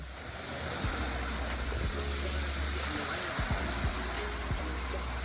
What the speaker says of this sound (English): This is the sacred spring. It's the source of the thermal water for the pools, Roman baths.